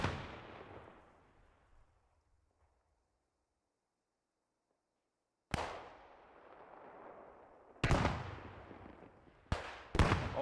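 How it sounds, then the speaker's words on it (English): Grenade and gunfire blasts in a World War II style video game, a sharp burst decaying into silence, then three more sudden loud bangs in a row, with no speech. "Oh, and that's a grenade."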